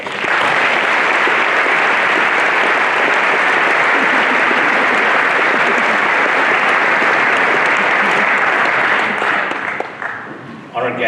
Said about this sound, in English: I think they do deserve another round of applause